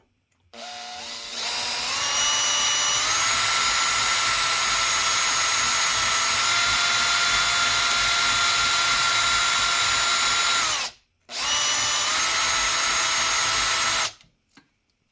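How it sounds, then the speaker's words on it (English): A power drill whines at a steady high pitch for about ten seconds, cuts out briefly, then runs again for a few more seconds before stopping, drilling into a rifle barrel held in a vise. "So we're going to drill about probably 20 to 30 seconds."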